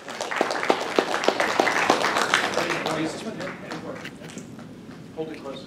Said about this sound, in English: let's give it a big round of applause.